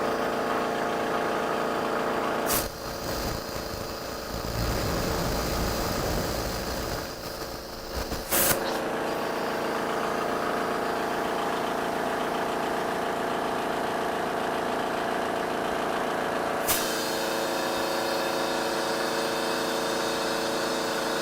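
An air compressor in a home workshop runs steadily as it fills its tank, a close, continuous motor drone with brief louder bursts near the start and a short click partway through.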